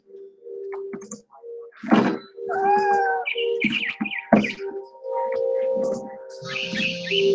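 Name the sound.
cat meowing in the video game What Remains of Edith Finch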